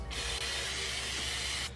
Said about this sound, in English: So first I'm gonna spray a little bit of canola oil spray